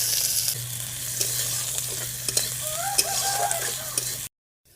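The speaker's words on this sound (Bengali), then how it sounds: "प्रथमे कढ़ार मध्य तेलटा गरम हो गेछे, किछु पेঁয়াজ कुचि दिए देब।" Chopped onion fries in hot oil in a kadai wok, giving a loud, close, continuous sizzle with occasional scraping stirs that stops abruptly at the end.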